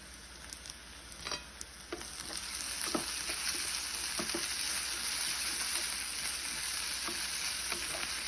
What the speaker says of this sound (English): I like to fry the vegetables in batches, so I get nice consistency.